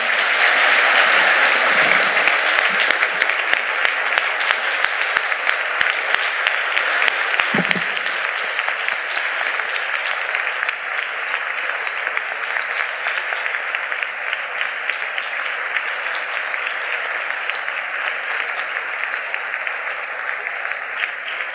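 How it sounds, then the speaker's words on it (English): Long, loud round of applause from an audience at a Chabad Jewish community evening in the Cayman Islands honouring Eva Schloss, many people clapping steadily for over twenty seconds, slightly louder at first and then holding even. "let's give Mrs. Schloss a great round of applause"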